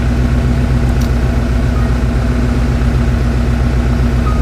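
Car engine with Holley EFI fuel injection idling steadily, a loud continuous low rumble with even pulsing, close by and with no talk.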